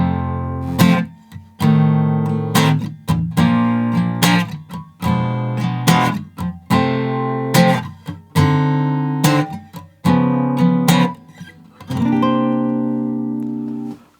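Electric guitar in standard tuning plays the slow intro to a song, a series of ringing strummed chords and arpeggios, each struck clearly then left to decay, with brief gaps between phrases and no talking.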